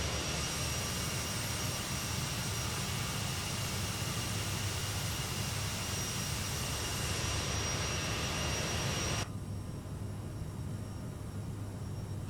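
Jet airliner engines in Microsoft Flight Simulator 2020 give a steady, loud, broadband roar that runs unbroken, its upper hiss dropping away sharply near the end; no one speaks.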